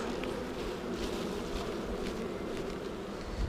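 Honeybees buzzing around a hive frame being lifted during a spring inspection, a soft continuous hum with brief louder passes as individual bees fly near.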